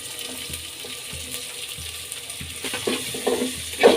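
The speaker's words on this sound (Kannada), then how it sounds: "ಈರುಳ್ಳಿ ಫ್ರೈ ಆಗಲಿ" Onions fry in oil with green chilli, ginger and garlic in a pan, giving a soft continuous sizzle with light stirring taps that grow a little busier toward the end, and no talking.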